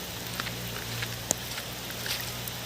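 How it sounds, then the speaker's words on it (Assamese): Heavy rain falls steadily outdoors as a dense, even hiss with scattered louder drop ticks and one sharp splat near the middle, beside a river, with no voices. "অতিপাত বৰষুণ ইয়াত"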